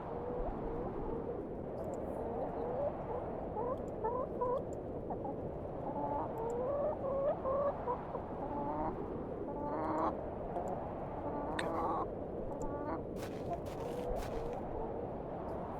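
Chickens clucking on a farm in the adventure game The Excavation of Hob's Barrow, a hen and a rooster giving scattered, overlapping calls over a steady ambient bed for the whole stretch.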